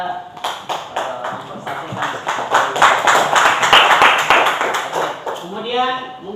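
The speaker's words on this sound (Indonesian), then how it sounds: "Mari kita kasih aplaus bagi kelompok yang sudah mempresentasikan." Classroom applause for a presenting group, a short patter of hand claps mixed with voices talking over it.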